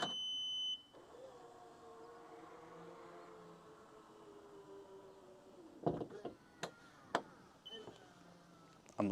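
Tesla Model 3/Y aftermarket auto frunk closing: a brief alert beep, then a steady motorized whir as the hood lowers for several seconds, followed by sharp clunks and clicks as it latches shut.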